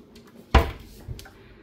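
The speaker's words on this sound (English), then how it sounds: "a very noisy set of drawers" A noisy set of drawers in a Mallorca hotel room bangs once sharply, then gives a softer bump and a faint scrape, all close and without talk.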